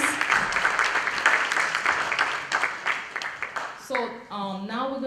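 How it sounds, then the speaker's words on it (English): An audience applauds James in a round of clapping, dense and fairly loud for about four seconds, then fading as a voice starts talking. "Another round of applause for James"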